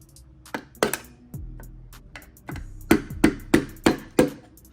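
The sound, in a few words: rubber mallet lightly tapping flathead on rivet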